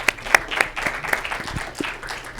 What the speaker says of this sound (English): Let's go ahead and give these candidates a round of applause